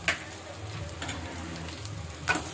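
Turmeric sizzling in hot oil, a faint steady frying hiss with a couple of soft stirring clinks at the start and end, no voices.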